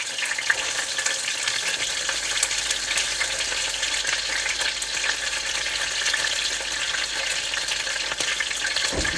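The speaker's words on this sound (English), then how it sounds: "These look like pretty good chicken legs here. Okay, so these ought to start getting seared." Chicken legs sear in hot oil in a frying pan, giving a loud, continuous close-up sizzle and crackle with no voices.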